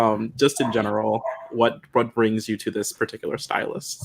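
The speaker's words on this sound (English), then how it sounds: "Apologies about the dogs over there, by the way." Dogs barking somewhere in the room, yips and barks mixed under a close conversation between people.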